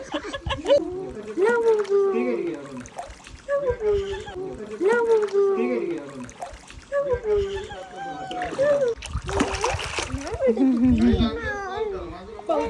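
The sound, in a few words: water splashing as a child swims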